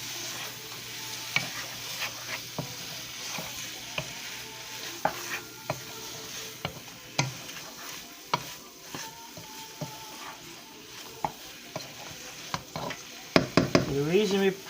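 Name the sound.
frying vegetarian chunks in a pan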